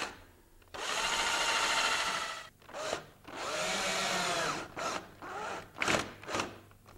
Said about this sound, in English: I'll first pre-drill the hole and countersink it.